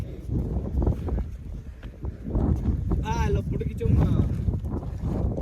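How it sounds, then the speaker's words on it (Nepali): Strong wind buffets a hilltop viewpoint during a hike, a constant low rumble of gusts battering the microphone throughout, with people talking over it. "यहाँ चाहिँ हावा धेरै चलेछ"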